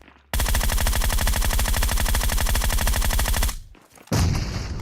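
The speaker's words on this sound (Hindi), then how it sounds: "M24 वाले बंदे ने मेरे पे शॉट लिया" Rapid, loud gunfire fills most of the moment in the BGMI shooter game, an unbroken dense burst of shots that cuts off abruptly, followed by a short pause and a renewed roar.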